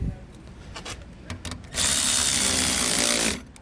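A power tool drives hardware tight on a Blue Ox KarGard protective shield for a towed vehicle, a loud steady whir lasting about a second and a half after some quieter handling clatter.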